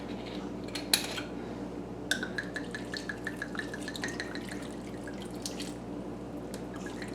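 White wine splashes into a hot pan with onion, minced garlic and sea salt, giving a string of quick close drips and spatters over a low steady sizzle.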